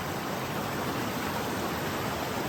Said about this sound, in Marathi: त्या पाठीमागे पाण्याचा आवाज बघा